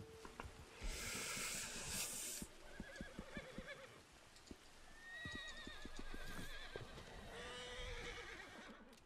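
In Red Dead Redemption 2, a horse whinnies loudly in rain, with hoof clops and snorting around it and a hissing rain background.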